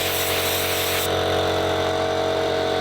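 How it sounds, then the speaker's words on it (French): An air compressor runs to dry a water-soaked motorcycle seat, a steady, loud mechanical hum with broad hiss; the airy high hiss drops off abruptly about a third of the way in while the hum continues. "Eli a sorti le compresseur pour sécher la selle de la moto, encore gorgée d'eau."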